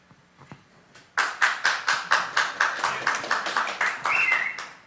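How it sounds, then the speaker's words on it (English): Clapping from a small group at a public meeting about national park fees and shuttle service, starting abruptly after a quiet moment and continuing as a steady rhythmic patter of hands, fairly close and loud. "please hold back your applause there, Mr. Loretic."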